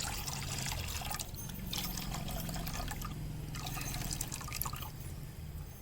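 Water poured off rinsed, soaked ingredients in a home kitchen for a dosai batter, a steady splashing trickle and dribble running continuously at close range without any talking.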